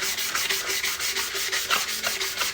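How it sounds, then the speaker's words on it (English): Steady, rhythmic rasping of folded sandpaper rubbed back and forth by hand over a tumbler's hard surface, close up, with no talking. "when I sand mine by hand, I usually fold it over."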